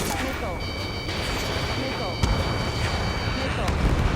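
Missile launches and blasts in the Ace Combat 7 flight combat game: a dense, steady roar of booms with a sharp burst near the middle, layered with high electronic warning tones, and radio voices talking underneath.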